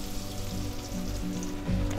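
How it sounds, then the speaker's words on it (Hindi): Boiled potato lollipop balls fry in hot oil over a high flame, giving a steady close sizzling hiss with a constant low hum beneath, no talk. "हमने इसको हाई फ्लेम पे फ्राई करना है"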